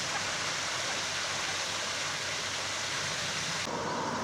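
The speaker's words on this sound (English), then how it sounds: "the chalk stream that is the River Lea running through it" The River Lea, a chalk stream, flows past the old mill at Kimpton with a steady, even rushing of water, close and continuous with no voices.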